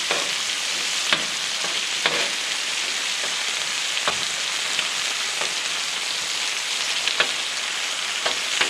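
Bacon cheeseburgers frying on a stove at a deer camp, a steady close sizzle and crackle with occasional sharp pops, heard alone without talk.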